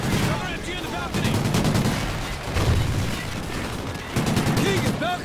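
Rapid bursts of machine-gun fire in a Call of Duty: Ghosts battle, repeated volleys at close range with game voices shouting over the shooting.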